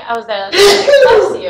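One sharp sneeze bursts out in a room during a legal discussion, close and loud, with voices talking right before and after it.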